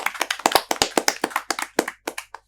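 A small group gives quick, sharp applause for prize-winning students in an indoor setting, about two dozen crisp claps in an uneven burst that thins out toward the end.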